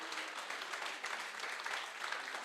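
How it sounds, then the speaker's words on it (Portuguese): A seminar audience applauds with steady, dense clapping throughout, fairly faint and at a distance, without any pauses. "um aplauso para você que vai adiante"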